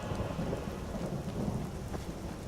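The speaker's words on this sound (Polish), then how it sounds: "Jeszcze burza." Thunderstorm in Skyrim: a constant wash of heavy rain with low rumbling thunder rolling beneath it, loud and continuous without a break and with no talking.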